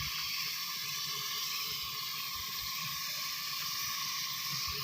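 Onions fry in ghee in a pan with a steady, close, even sizzle and hiss that holds without a break, with a faint low crackle underneath and no voices.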